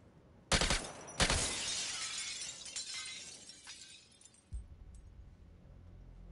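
Glass shatters in Suicide Squad: Kill the Justice League: two loud, sharp crashes close together, followed by a long tinkling spray of falling shards that fades out, with a dull thud near the end.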